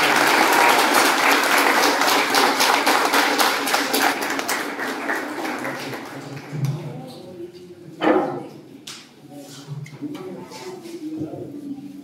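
A church congregation at a First Communion mass claps in loud, dense applause that slowly fades, followed by scattered claps and voices speaking.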